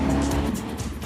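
A lightweight tubular steel-framed sports car, an Ariel Atom or KTM X-Bow, roars past close by in a brief loud engine sweep with a hint of tyre noise.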